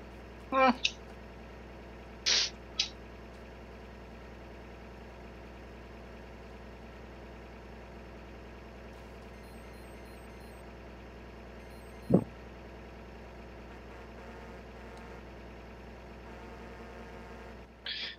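A tractor engine idles and runs in Farming Simulator 2013, a steady low drone held throughout with a few brief clicks and knocks over it, no talking.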